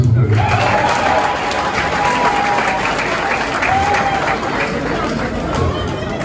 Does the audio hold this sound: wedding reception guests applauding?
yes